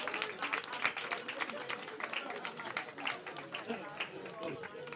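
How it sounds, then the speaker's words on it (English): A comedy club crowd applauds in a steady, dense wash of clapping mixed with murmuring, heard somewhat distant and fairly quiet, holding an even level for several seconds. "Give yourselves a round of applause"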